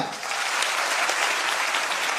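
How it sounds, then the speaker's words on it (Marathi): A crowd at a motivational talk breaks into loud, dense clapping, sustained and even across the whole moment, close and full with no voices standing out. "एकदा विचार मंचासाठी जोरदार टाळ्या होत्या"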